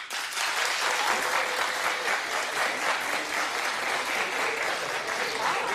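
A TV talk show studio audience applauds steadily, a dense, continuous wash of clapping that holds at an even level from start to finish.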